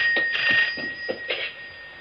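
A landline telephone rings in a rooftop home, its bell-like trill repeating in several short bursts over about two seconds, fairly clear and alone with no talk.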